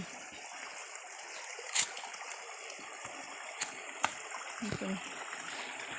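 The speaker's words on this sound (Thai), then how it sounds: "เสียงน้ำไหลดิน" A small stream in the Huai Thoep area of Fak Tha, Uttaradit, with a low winter flow, trickles steadily in a close, continuous wash, broken by a few faint knocks and rustles.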